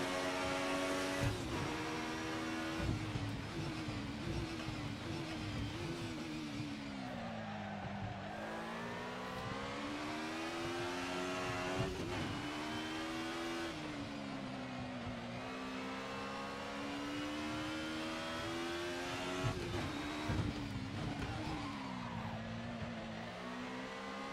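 A 90s DTM race car in a sim racing game at the Nürburgring drones continuously, its engine note climbing and dropping through gear changes, with occasional tire squeal.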